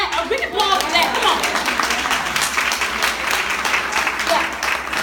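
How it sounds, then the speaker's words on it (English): A studio audience breaks into loud, sustained applause during a talk show, with close clapping that holds steady. Voices and cheers rise briefly at the start and mix into the clapping. "Oh, we can applaud for that."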